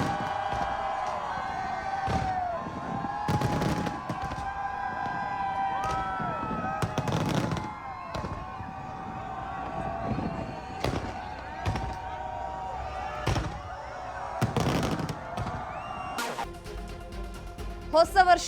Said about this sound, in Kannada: ಪಟಾಕಿ ಸಿಡಿಸಿ 2025ನ್ನ ಭರ್ಜರಿಯಾಗಿ ವೆಲ್ಕಮ್ ಮಾಡಿಕೊಂಡಿದ್ದಾರೆ